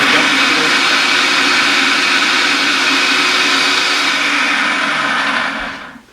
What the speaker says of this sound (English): we'll pulse those chickpeas